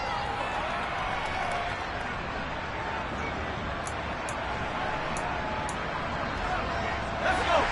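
A stadium crowd in Madden NFL 23 gives off a steady, broad roar of murmur during a Colts and Jets game, a continuous wash of noise with a brief swell near the end.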